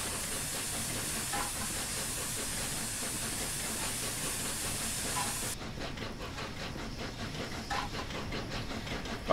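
Steady loud hiss of steam from the Flying Scotsman steam locomotive in the Train Sim 2020 game, continuous and close, easing slightly partway through with faint rhythmic chuffing and rail noise beneath.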